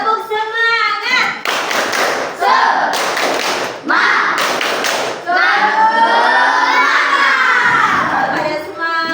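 A classroom of children does a rhythmic clapping chant, loud bursts of clapping and shouted voices in a quick pattern, close and energetic, with a teacher leading.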